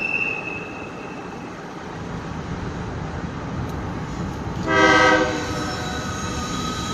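A CSX freight train rumbles past on the McCormick Subdivision with steady wheel and rail noise, while its horn sounds a short, loud blast partway through; no one speaks.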